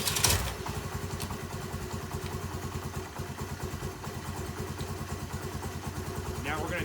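A Honda Navi engine idles roughly on a cold start in chilly 30-degree weather, a close uneven putter with irregular stumbles and clatter, steady throughout with no talking.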